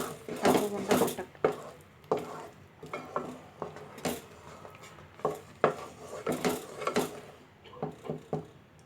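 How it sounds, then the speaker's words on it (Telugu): Repeated scraping and clinking of a spoon stirring a tomato bath mixture in a pot to keep it from lumping, uneven strokes in close succession with a voice faintly in the background. "ఉండలు రాకుండా కలుపుకోవాలి, తప్పకుండా పట్టక."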